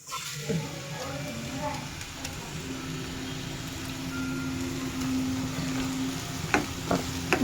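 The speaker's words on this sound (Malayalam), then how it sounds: "നന്നായിട്ട് ഇളക്കി കൊടുക്കുക." A green peas mixture for a street-stall style dish fries in a pan, a steady low sizzle with occasional scraping knocks as it is stirred, and a low hum underneath.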